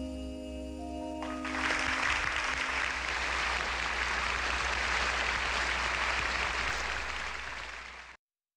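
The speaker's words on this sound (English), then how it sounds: "Oh, was that applause for us?" A live studio audience at a tech show breaks into applause that quickly swells to a full, dense clapping and holds steady before cutting off abruptly.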